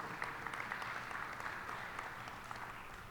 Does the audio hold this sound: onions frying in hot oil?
no